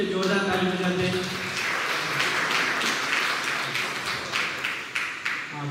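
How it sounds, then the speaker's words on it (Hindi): A church congregation at a Sunday evening Hindi service claps loudly together, a dense burst of applause that thins into scattered, uneven claps near the end. "क्यों ना हम परमेश्वर के लिए जोरदार ताली बजाते हैं।"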